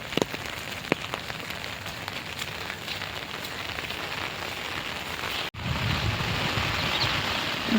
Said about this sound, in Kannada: ಒಂದು ಮಳೆ ಬರ್ತೈತೆ